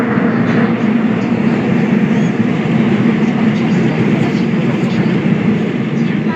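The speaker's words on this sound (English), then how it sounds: "Riding the train to get to the retro bar." Inside a moving train, a continuous loud rumble of wheels and carriage noise fills the space evenly, with no breaks.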